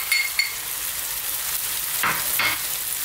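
Eggplant and tomatoes sizzle and spit in a hot pan for a smoky Indian baingan bharta, a steady close hiss broken by a couple of sharper bursts as the mixture is stirred, with no voices.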